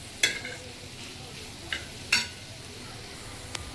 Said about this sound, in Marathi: आता सर्व एकजीव करणार आहोत.